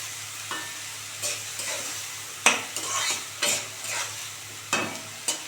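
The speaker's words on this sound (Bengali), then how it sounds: "হাফ চামচ হলুদ দিয়ে দিলাম। এটা সেখানে ভাজা ভাজা হবে।" Drumstick flowers with half a spoon of turmeric fry in a pan under a soft sizzle, broken by repeated scraping spatula strokes at an uneven pace, close and clear.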